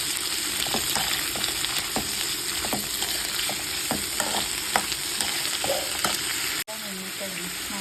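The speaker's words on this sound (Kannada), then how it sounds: "ಈರುಳ್ಳಿ, ಕ್ಯಾಪ್ಸಿಕಮ್, ಬೆಳ್ಳುಳ್ಳಿ, ಶುಂಠಿ ಎಲ್ಲನೂ ಹಾಕ್ಕೊಂಡು ಸ್ವಲ್ಪ ಫ್ರೈ ಮಾಡ್ಕೊಳ್ಳೋಣ" Chopped onion, capsicum, garlic and ginger fry in hot oil, giving a steady, close sizzle with frequent light clicks of stirring throughout and a brief cut near the end.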